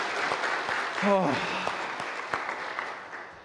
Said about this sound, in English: deserve a round of applause for all of the amazing work they did